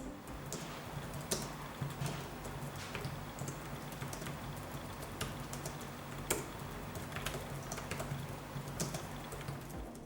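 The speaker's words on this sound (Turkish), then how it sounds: "oval olarak tasarlanan tuşlar oldukça yumuşak basış hissine sahip ve sessiz çalışıyor." Quiet, soft keystrokes tapping away at a quick, uneven pace, a low-profile Logitech K380 Bluetooth keyboard with oval keys being typed on steadily with no voices.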